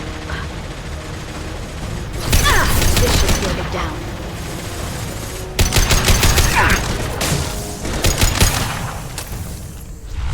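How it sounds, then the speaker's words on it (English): Gunfire in Mass Effect 2 during the Lair of the Shadow Broker mission comes in loud rapid bursts, the first around two seconds in and the next at about five and a half, with sustained combat noise between them. "Firing a high-impact shot."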